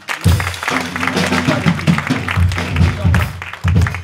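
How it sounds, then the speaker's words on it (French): A church congregation claps and cheers in bursts, loud and close, with a voice rising over the applause. "Je veux qu'on acclame Dieu pour sa vie."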